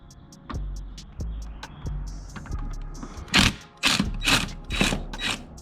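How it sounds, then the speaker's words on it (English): An impact wrench fitted with a swivel spins a 12 mm nut off a 2G Mitsubishi Eclipse GSX during an AC delete, a few short clicks giving way to several loud, close rattling hammering bursts near the end. "just gonna use my impact with the swivel here"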